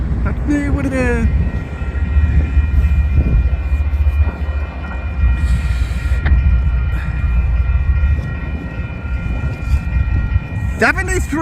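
Union Pacific 7337 leads a freight train with three distributed power units at the rear as it rumbles past loud and close. The heavy rolling roar is steady, with brief tonal blasts near the start and end.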